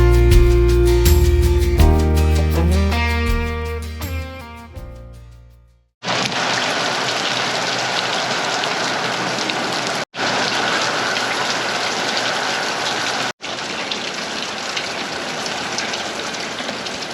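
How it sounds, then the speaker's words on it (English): Steady, dense rain from a June thunderstorm pours down and fills the scene after a passage of fading musical tones. The downpour is loud and even, cut by a couple of brief breaks, with no voices. "We're getting rain and it's kind of cool."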